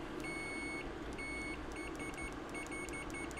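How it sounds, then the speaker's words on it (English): Continuity beeper of a FNIRSI DST-201 handheld digital multimeter sounds as its probes make and break contact: one long tone, then a series of quick irregular beeps and short bursts, fairly faint over a steady background hiss, with no speech. "Let's hear the beep."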